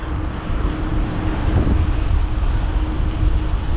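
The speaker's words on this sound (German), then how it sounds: "Der Wind ist sehr lebhaft jetzt." Strong wind blowing across the Danube Island, a steady loud rushing roar with low buffeting rumble that continues without a break.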